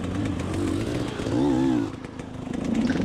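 A KTM enduro motorcycle on hard enduro terrain revs and pulls through a climb, the engine rising and falling close by and loud throughout.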